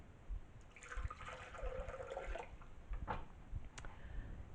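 Water from a measuring cup poured into a blender jar for a lemon tahini dressing, a steady splashing pour lasting about two seconds followed by a few faint drips, no talking.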